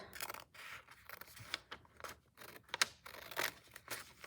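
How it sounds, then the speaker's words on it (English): Scissors snipping along the folded top edge of a paper brochure: a quick series of close, crisp cutting strokes with papery rustle between them. "I'm gonna cut this top edge like so. I'm trying to stay on that fold."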